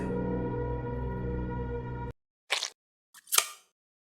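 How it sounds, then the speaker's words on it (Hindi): Wet, sticky saliva drips in an animated cartoon: after a steady tonal music bed cuts off, two short squishy splats land in the quiet, the second louder and more smeared. "ये पानी नहीं, सलावा है।"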